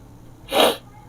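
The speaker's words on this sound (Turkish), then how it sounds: "hapşıracağım." A single short, sharp sneeze bursts out close by against a quiet background.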